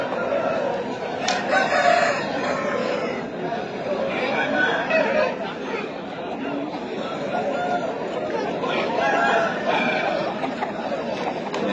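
Chickens and roosters at a busy Sunday pet market in Pileru, with crowing and clucking rising over a dense, constant crowd chatter and nearby voices talking.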